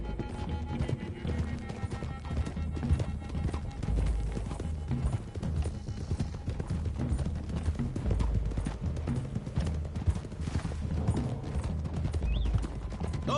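Horses galloping across open country in Red Dead Redemption 2, a steady thudding hoof rhythm running throughout under a dense game soundtrack and ambient noise.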